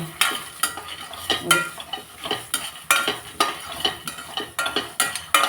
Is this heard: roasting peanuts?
yes